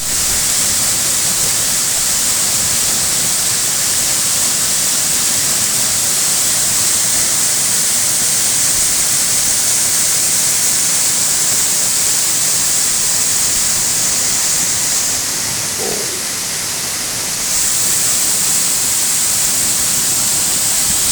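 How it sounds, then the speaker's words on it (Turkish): Os Waterfall on the Bayburt–Araklı road roars as a loud, steady, broadband rush of falling water, filling the whole stretch with constant noise and no talking. "burası Bayburt Araklı yolu üzerinde Os Şelalesi"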